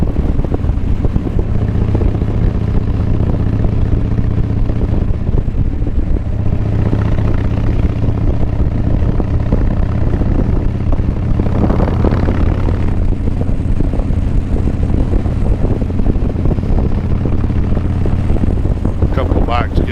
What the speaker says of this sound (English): A couple of bikes getting ready to go past me. Glide ST and a road glide.